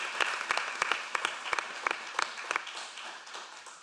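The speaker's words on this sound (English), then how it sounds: "I'm clapping for myself" A single woman clapping her own hands after finishing an academic talk: about a dozen crisp, evenly spaced claps that blend into softer, wider applause near the end, with no speech over it.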